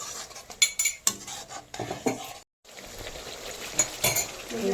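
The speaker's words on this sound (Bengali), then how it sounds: "যতক্ষণ না তেল ছাড়ে ততক্ষণ মশলাটা এখন কষাতে হবে।" Spice paste being stirred and fried in a pan, heard as repeated clinks and scrapes of a metal spoon against the pan over a low sizzle, with one brief silent gap.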